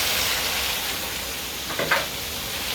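Pancit canton noodles with plenty of vegetables stir-fry in a hot pan, a steady close sizzle with a few brief scraping stir sounds near the end, no voices.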